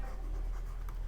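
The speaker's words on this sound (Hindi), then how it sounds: "यहाँ लिखता हूँ" Marker or chalk writing on a classroom board during a Hindi-language English vocabulary lesson, a steady faint scratchy stroke running through the whole second with one brighter tap near the end.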